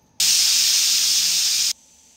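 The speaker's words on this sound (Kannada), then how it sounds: "ಇವಾಗ ಇದು 1 ವಿಷಲ್ ಬಂದಿದೆ." A pressure cooker on the stove, lid closed over about half a cup of water, lets out one loud, steady blast of hissing steam from its whistle that lasts about a second and a half and then cuts off abruptly.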